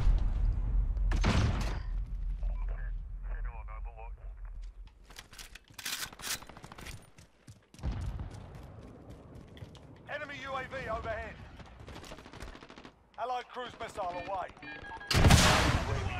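Gunfire in Call of Duty Modern Warfare comes in several bursts and single shots among game radio chatter and players talking, ending in a loud close volley.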